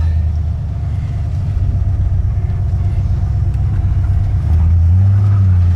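An old junkyard truck engine fed by an aftermarket carburetor idles with a loud, close, uneven rumble, stumbling irregularly before the tone rises slightly near the end.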